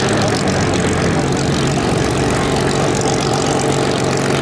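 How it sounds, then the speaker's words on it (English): A Grumman F8F Bearcat propeller fighter comes in to land at an airshow at Duxford, giving a loud, continuous engine drone with a deep low rumble that holds steady throughout. "So coming to land on the Grumman."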